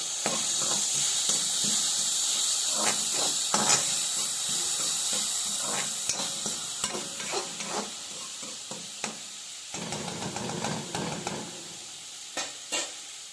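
Chopped tomato sizzles and hisses steadily in a hot pan, with occasional soft scraping of a spoon stirring, close and moderately quiet with no talk.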